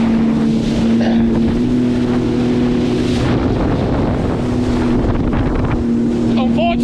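Sea-Doo personal watercraft riding over big waves, its engine a steady droning hum throughout with wind buffeting the microphone and water splashing, nearby and loud with no talk.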